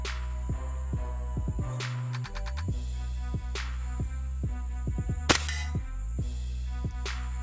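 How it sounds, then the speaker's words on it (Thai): A WE M1911 airsoft pistol emptying a full 15-round magazine, a regular series of sharp close shots with metallic slide clacks and steady low mechanical hum behind, no talking. "อันนี้ 15 นัดนะครับ เต็มแม็กเลย ยิงผ่านกล้องนะครับ"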